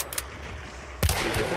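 A gunshot in an online shooting video game rings out sharply and close, a single loud report over steady background game noise, with a fainter shot heard just before.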